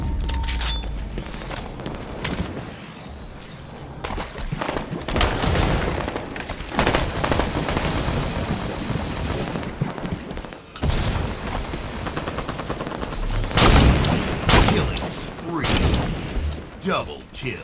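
Gunfire and explosions during a Halo multiplayer Big Team Battle match, bursts of shots and heavy booms coming in waves, with an announcer voice and player talk over the action.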